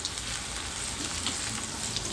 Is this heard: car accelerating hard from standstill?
no